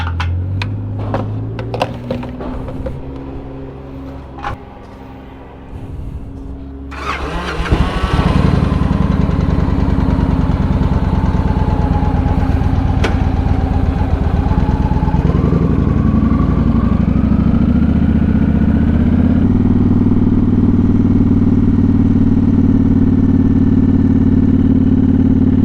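A motorcycle engine cranks with a few clatters and then catches, settling into a loud, steady idle close by, whose pitch shifts slightly partway through and then holds evenly.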